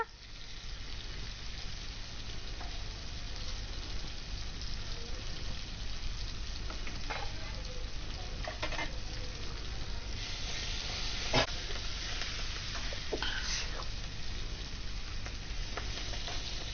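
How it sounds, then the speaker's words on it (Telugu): Fenugreek leaves and turmeric fry in hot oil with a steady loud sizzle while a spoon stirs, scraping and clinking against the pan now and then. "మంచిగా పసుపు నూనెలో గోలేటట్టు మంచిగా కలుపుకోవాలి"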